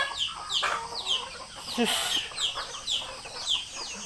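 Pet chickens cluck in repeated short, bright calls close by, roughly every half second, with a voice briefly speaking over them.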